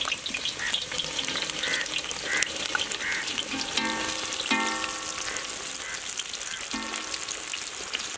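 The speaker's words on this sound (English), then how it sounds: "Now let's make brown onions." Onions frying in vanaspati for chicken biryani, a steady dense sizzle throughout with occasional stirring clatter and faint tonal clinks, close and continuous with no talk.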